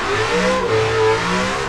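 A race car engine revs in a racing video game, a loud, near whine rising and falling through a corner, on its own.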